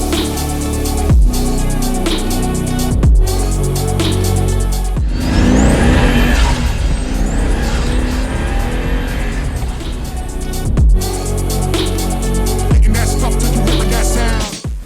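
A carbon-fiber Pagani Huayra supercar roars loudly and continuously as it pulls away, its engine climbing through several sharp revs and gear changes, with a brief screech of tire squeal mid-run.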